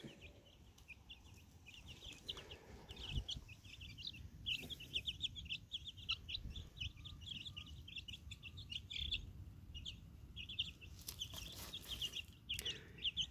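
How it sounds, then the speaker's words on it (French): Small chicks peep continuously outdoors on a mild day while a mother hen clucks softly nearby, a busy, fairly faint chorus of high chirps with low background noise. "Je les entends piailler de bonheur."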